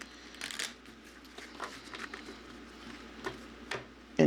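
Tarot cards are shuffled in soft, brief riffling bursts, fairly quiet and close, with a few light taps between them and no voices.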